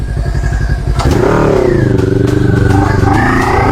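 A big bike motorcycle revs hard and accelerates, a low idling chug swelling into a loud, rising engine roar that stays close and strong to the end.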